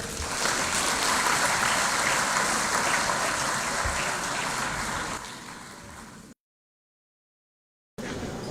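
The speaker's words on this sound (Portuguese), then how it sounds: "Agora é a vez de aplaudirmos" An audience claps for performer Gabriel Chema at the Angola Bar Association's swearing-in ceremony for its governing bodies. The applause is dense and sustained for about five seconds, then thins out and stops, and a short burst of noise returns at the end.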